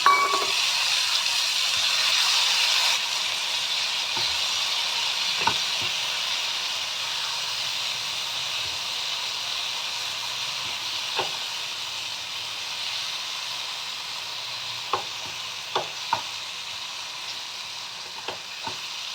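Brinjal frying with garlic, tomato and onion, a steady bright sizzle and hiss lasting throughout, with scattered light knocks and scrapes of a utensil against the pan, no talking.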